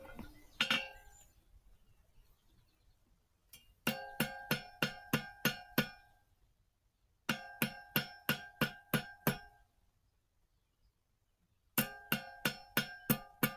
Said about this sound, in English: it's time to hammer